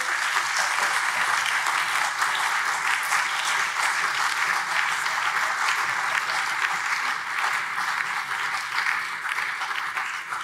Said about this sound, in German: ich glaube, das ist einen Applaus für alle wert